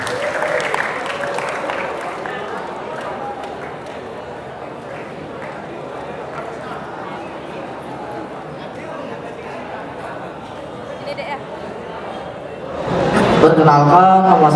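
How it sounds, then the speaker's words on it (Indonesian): Audience applause for a student at an entrepreneurship seminar, steady crowd clapping throughout with voices talking over it, then a louder burst of voices near the end. "Tepuk tangan ya buat teman kalian"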